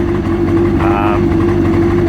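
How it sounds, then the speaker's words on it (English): A 2003 Yamaha RX1 Genesis 1000cc four-cylinder engine idles while warming up with the choke on, holding a loud, close, steady hum and a constant low tone throughout. "I usually let it run about another good minute after it goes off before I start to drive it or anything"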